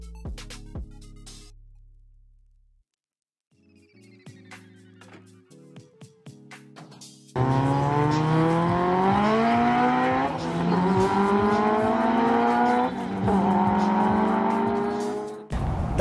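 A street race car runs hard against an Evo, its engine roaring loud and close with rising revs through the gears and a brief dip between pulls, after a quieter stretch of short clicks and tones.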